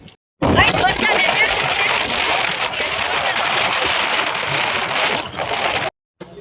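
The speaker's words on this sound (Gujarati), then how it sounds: "જોરદાર વરસાદ આવે છે" Heavy rain pours down on a motorbike ride along a road toward Bhaguda, a loud, steady broadband hiss with wind buffeting the microphone, running continuously before cutting out abruptly near the end.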